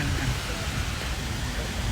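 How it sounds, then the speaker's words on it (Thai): Steady rain falling outdoors, a dense even hiss with a low rumble underneath, loud and continuous throughout. "เขาเล่นน้ำฝนกันแล้ว"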